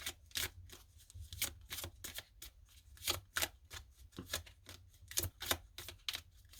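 Tarot cards are shuffled in quick, crisp bursts of riffling and flicking close by, repeating irregularly in a quiet room.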